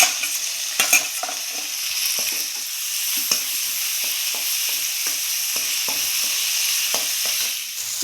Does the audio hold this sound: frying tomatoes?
yes